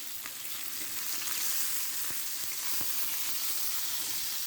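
Rib-rubbed pork chops sizzle steadily in hot oil in a pan on a burner. The frying hiss is continuous and bright, with a few small pops, and no voices are heard.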